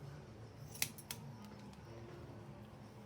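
Scissors make two quick, crisp snips as they cut a mannequin's hair, close and faint against a quiet room.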